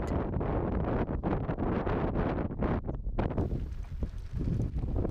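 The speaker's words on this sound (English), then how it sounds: "Look at this crazy gust of wind." Strong wind roars and buffets the microphone in heavy, continuous gusts while riding a recumbent e-bike, loud and rough throughout with no voices.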